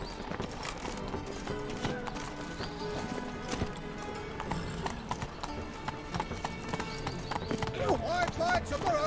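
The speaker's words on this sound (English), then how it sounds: "Giddy up. Whoa there, Roach." Horse hooves clip-clopping at a steady gait in The Witcher 3 video game, running continuously under busy game music and effects, with a brief whinny and a voice calling out to the horse.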